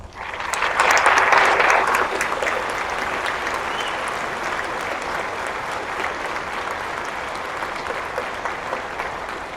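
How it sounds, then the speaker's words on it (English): A large audience applauds graduates at a university commencement, loud steady clapping that swells in the first two seconds and then holds at an even level throughout. "I think that collectively, these graduates deserve a big round of applause."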